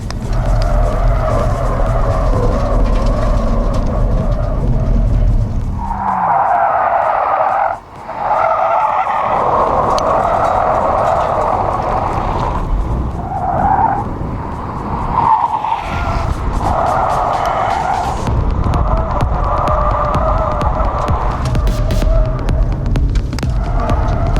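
A Honda Civic driven hard in sport mode, accelerating without braking and oversteering, with sustained loud engine and tire noise throughout, a brief dip near the middle, then the roar and squeal resuming.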